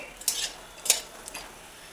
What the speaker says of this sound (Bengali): বড়িগুলো লাল করে ভেজে নেব।